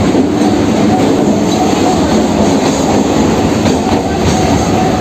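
Loud, constant rolling and clatter fill a nearly empty Kolkata Circular Rail local train on a weekend, with faint wheel squeal over the steady roar.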